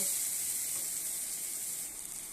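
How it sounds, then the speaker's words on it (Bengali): Hot water poured into fried tomato masala sets off a loud, close hissing steam sizzle that fades slowly over a couple of seconds, with no talking. "এখন আমি গরম জল দিয়ে দেব"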